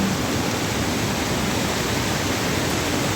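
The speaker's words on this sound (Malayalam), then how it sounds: "കര കവിഞ്ഞൊഴുകുന്നു കര കവിഞ്ഞൊഴുകുന്നു" The Aluva river in flood spills over its banks as a loud, steady roar of rushing water, close by, an unbroken wash of sound with no voices.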